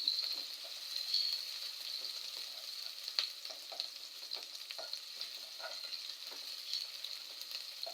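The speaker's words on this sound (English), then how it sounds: "You're going to cook the onions until they are translucent." Onions frying in a pan with a pinch of salt for a Kenyan-style egg stew give a steady, fairly quiet sizzle with occasional light clicks of stirring, heard alone without talk.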